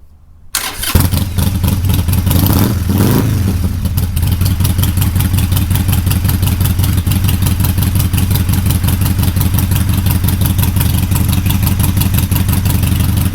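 A motorcycle in 12-degree cold cranks on an AntiGravity lithium-ion restart battery, catches after a few seconds of labored turning, then settles into a loud, close, steady rhythmic idle.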